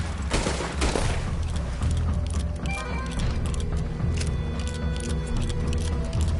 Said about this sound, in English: Put every bullet you got now!